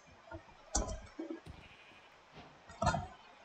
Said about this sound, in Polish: O, jest tam owca, dobra.